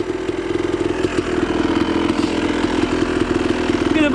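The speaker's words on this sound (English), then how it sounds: "Look at the bike just going." Motorcycle engine revving hard while stuck in slippery mud on a trail, a loud, continuous buzzing drone with rapid throttle pulses throughout.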